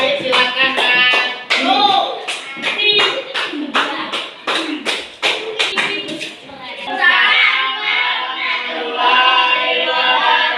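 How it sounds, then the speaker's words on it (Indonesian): Clapping by an audience for a presenting group in a classroom workshop, sharp uneven claps ringing for about six seconds before fading into children's chatter. "Kasih tepuk tangan untuk kelompok 3"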